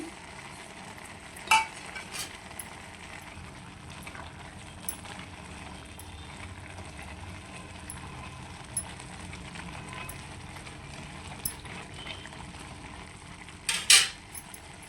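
Maggi noodles tossed with masala in a pan on an Uttara Karnataka home stove, a steady scraping stir over a soft sizzle, with a few sharp clinks of utensil against metal near the start and end.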